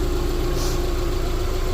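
A bugeye car idles with its exhaust system hooked up, a steady, even engine hum with a low pulsing rumble and a fixed drone, close and unbroken, no voices.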